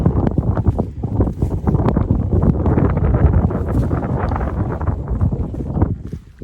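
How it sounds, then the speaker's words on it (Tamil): Strong wind buffeting the microphone on a hiking trail near Singapore's Upper Peirce Reservoir, loud and continuous with gusty roaring rumble for the whole stretch, easing slightly at the end. "அழகான காற்று."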